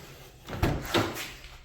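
A car door, on an older car fitted with swapped locks, opens with two short nearby clunks and a brief creak, with no talking.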